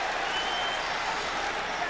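Basketball arena crowd in a 1997 Heat at Knicks playoff game reacting to a foul announcement, a dense, loud, steady roar of cheering and clapping filling the whole moment without a break.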